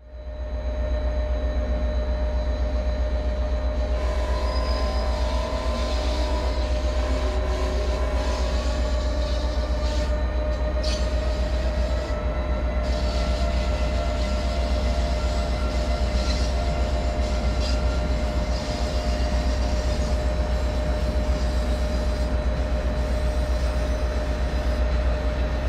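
Electric multiple unit motors of a Boston Sprinter train in Train Sim World 3, a steady rolling rail drone with a sustained tonal whine and faint clicks, loud and continuous throughout with no talking.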